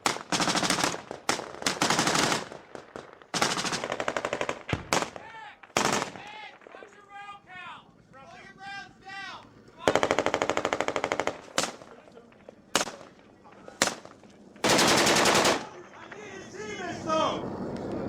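Bursts of loud automatic gunfire and single shots in a firefight at a two-story building, coming in repeated dense volleys separated by short gaps, with voices and radio-like chatter heard between the bursts.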